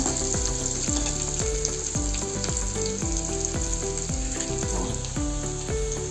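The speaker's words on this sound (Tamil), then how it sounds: "வெங்காயம் நல்லா கொஞ்சம் வதங்கினதுக்கப்புறம் பூசணிக்காய் சேர்த்துக்கலாங்க." Onions sautéing in a pan, a steady close sizzle with regular scraping stirs, a tonal musical background running throughout and no voices.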